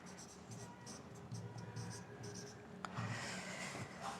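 Marker or chalk writing on a board during a mathematics lecture: soft, repeated rubbing strokes in short bursts, fairly quiet, with a faint room hum behind.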